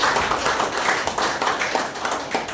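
A church congregation clapping together in praise during a sermon, a dense, fairly loud patter of many hands in uneven rhythmic waves, with no talk over it.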